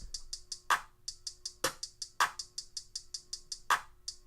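Crisp, rapid trap hi-hat ticks with short gaps, punctuated by a few louder snare-like hits, no voices.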